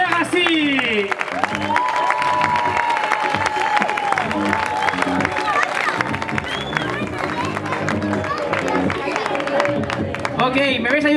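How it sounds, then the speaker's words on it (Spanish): Applause and cheering rise from the crowd at a breakdance battle final in L'Hospitalet for the crew Legacy, loud sustained clapping and whoops under an MC talking excitedly over a microphone. "fuerte aplauso para ellos, venga que se oiga"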